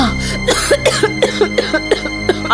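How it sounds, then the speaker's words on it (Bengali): A queen with a persistent cough coughing in a quick run of seven or eight short, harsh coughs, close and loud, with no talk. "কাশিটা কিছুতেই কমছে না"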